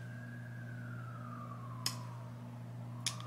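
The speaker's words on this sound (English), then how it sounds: "5 a.m. and I'm dealing with sirens." An emergency vehicle siren wails outside at 5 a.m., a single slow, faint, falling tone heard at a distance over a steady indoor hum, broken by two sharp clicks.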